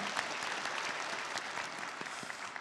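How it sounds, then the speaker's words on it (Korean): Congregation applause in a church service, a steady wash of many hands clapping at a distance, even and fairly soft throughout. "다 같이 환영과 격려와 축복의 박수 보내시겠습니다."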